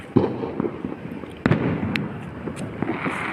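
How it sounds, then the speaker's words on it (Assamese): Firecrackers burst during Diwali celebrations in the evening. Several sharp cracks and pops come at irregular intervals, some close and loud and others fainter, over a crackling background. "চব জেগাতে গৈ পেলাই ফটকা ফুটাইছে"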